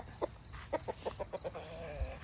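A hen clucks in a quick series of about seven short, soft clucks over a steady background hum.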